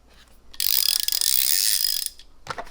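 A Gearwrench tap wrench gives a loud, rapid ratcheting whir for about a second and a half, then a short burst of clicks follows after a pause.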